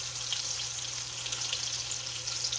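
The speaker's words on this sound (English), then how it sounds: "We're just trying to sear the exterior" Meatballs searing in a frying pan, a steady close hiss of sizzling fat over a low constant hum, alone without talk.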